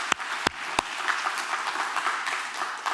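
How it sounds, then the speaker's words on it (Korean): A church congregation at a Korean revival service claps in praise: a soft, continuous patter of many hands with a few sharp, close claps near the start, fairly quiet and even, no talking over it. "하나님께 감사와 영광의 박수를 올려드립시다"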